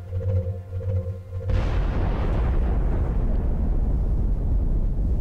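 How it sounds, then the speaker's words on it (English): A guided plasma rocket in XCOM: Enemy Within detonates with a sudden loud boom after a low humming lead-in, followed by a long rumbling roar that slowly fades, with no speech. "Zhang has a guided plasma rocket."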